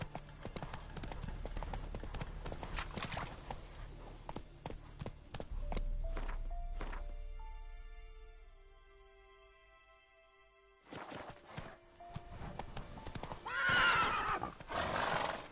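A horse in The Witcher 3 galloping with rhythmic hoofbeats, then a long loud whinny, a quieter stretch of game music, and a return of hooves and snorting near the end, with no voice over it.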